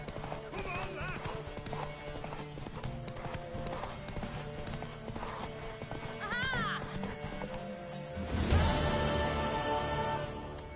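A horse in The Witcher 3 gallops with steady clip-clopping hooves, then lets out a loud whinny near the end, over in-game music and voices.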